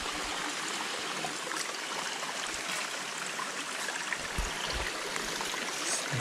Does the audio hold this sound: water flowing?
yes